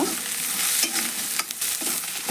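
Onions fry in a pan for an onion chutney. Close, sharp scrapes of stirring come in quick irregular strokes over a soft, continuous sizzle, with no voices.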